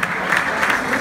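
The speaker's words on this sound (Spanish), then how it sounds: "Momento y el aplauso de todos nosotros para premiar tanta belleza" A carnival audience at an awards ceremony applauds loudly in a brief, close, steady burst of clapping.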